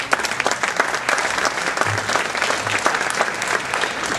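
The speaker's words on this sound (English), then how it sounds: "that's the first time politicians have ever clapped for the media" Politicians in an audience at the 2009 ICF Awards ceremony applaud, a dense, sustained wash of many hands clapping that carries evenly throughout with no talk.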